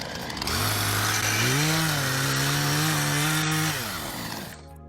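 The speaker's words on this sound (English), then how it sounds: "I thought I'd get out my chainsaw" A chainsaw runs loud and close, its engine revving up to a higher steady whine before dropping back and cutting off near the end.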